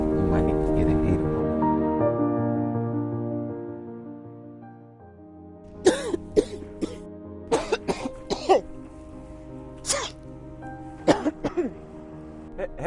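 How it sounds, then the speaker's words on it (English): A person coughs several times in short, irregular bursts after a sustained musical tone fades, the coughs close and fairly loud. "I've been coughing and sneezing all night."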